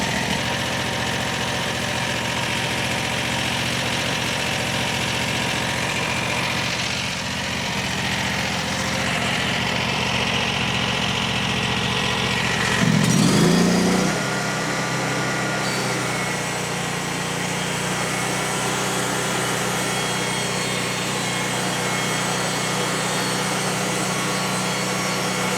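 A Frontier OS35 portable sawmill runs at a steady idle-like drone while cutting a slab off a partly rotten log, with a brief louder burst midway as the blade works through the wood.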